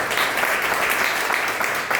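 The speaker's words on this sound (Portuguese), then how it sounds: "Aplauda o nome do Senhor Jesus." A church congregation claps together in a dense, steady burst of applause that stays loud and even for about two seconds, with no voice over it.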